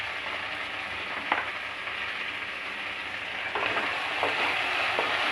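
Okra frying with masala and green chilli in a pan, a constant close sizzle with a few soft scraping stirs of a spoon, no voices.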